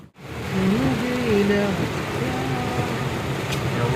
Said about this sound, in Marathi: एवढा पाऊस आहे की काहीच दिसत नाही.